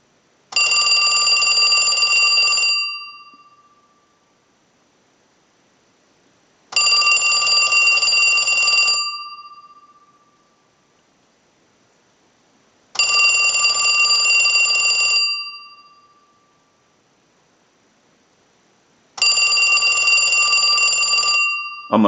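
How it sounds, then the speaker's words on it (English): A Western Electric 2554 telephone bell rings in four long bursts, each about two seconds, separated by pauses of several seconds, loud and close with no talking. "send a ring cycle like you were getting a call"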